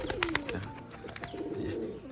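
A golden Teddy Not pigeon with clipped wings coos close by, giving low throaty calls mixed with sharp flutters or clicks in quick, irregular bursts.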